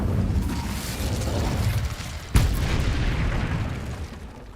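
A falling object explodes in the Hogwarts Legacy video game, one sharp boom midway that rings out over a dense, rumbling wash of game noise filling the rest of the scene.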